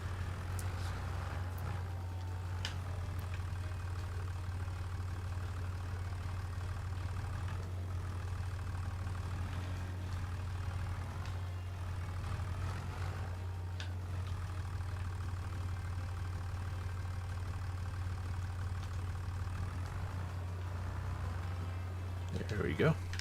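A tractor engine idles in Farming Simulator 25, a steady low rumble that holds throughout at an even level, with faint clicks and game sounds scattered on top.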